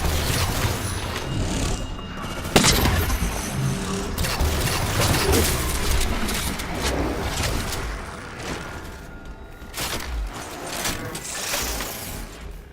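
Dense gunfire and crashing combat against Knights in Halo 4, with binary rifle and light rifle shots, runs continuously at a steady loud level, with a sharp crack near the start and no voices.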